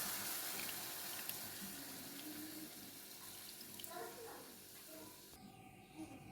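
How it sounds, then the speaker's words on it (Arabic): Water is poured into a cooking pan of meat piccata. It gives a soft, continuous trickling splash that is fairly close and quiet, with faint kitchen clatter near the end. "هننزل شويه ميه"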